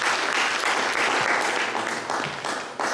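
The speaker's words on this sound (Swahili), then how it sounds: "Mpigieni makofi." A church congregation at a Sifa Night worship service in Kisii applauds loudly and steadily, dense clapping filling the room for about three seconds before tapering slightly near the end.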